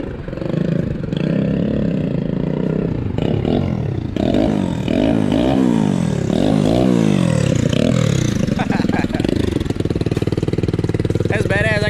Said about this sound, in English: Honda Grom with a 300 motor with a turbo kit on meth.